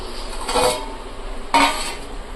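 Two metallic clanks about a second apart as a cooking pot lid is lifted and handled over simmering fish gravy, close by, with a faint hum in the background.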